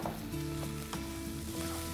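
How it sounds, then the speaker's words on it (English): Semolina being added to a hot pan for tomato rava upma, a soft continuous sizzle with a few faint stirring scrapes, quiet and without talk. "now I'm going to add the semolina or sooji to it"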